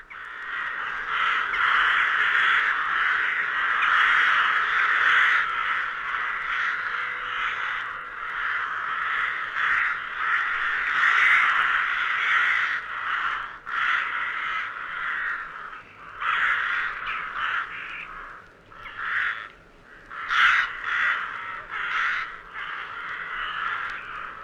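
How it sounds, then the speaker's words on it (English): Rooks and jackdaws cawing as they stream out of their roost on a cold December morning in the countryside, a dense, loud, continuous chorus of many harsh calls that thins briefly near the end. "the rooks and jackdaws stream out from their roost in long,"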